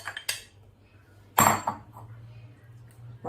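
A spoon clinks against a bowl while fruit is added to a creamy fruit salad, with a few light taps early on and one louder clatter in the middle, alone with no talk.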